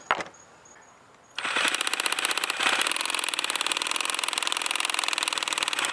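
A Milwaukee Sawzall reciprocating saw powered by an M18 battery through a Waitley adapter runs loud and close with a rapid, steady mechanical buzz and rattle that holds to the end after a short quiet lead-in.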